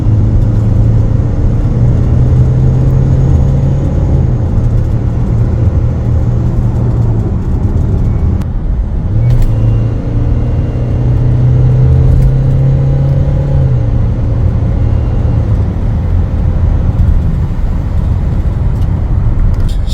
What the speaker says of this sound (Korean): 자, 풀악셀 한번 해볼게요. 딱 치고 나가는 게 달라요, 벌써.